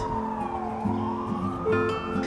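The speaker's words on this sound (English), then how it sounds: "Even with the loud sound of the ambulance, this is very pretty." A wailing siren sweeps up and down steadily, loud and fairly close, over low traffic rumble, with no talking.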